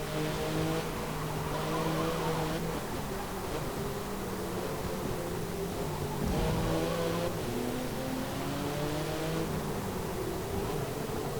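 A racing car's engine drones loud and steady in Forza Motorsport 7 on a track, holding a continuous roar with gear shifts and rising revs throughout.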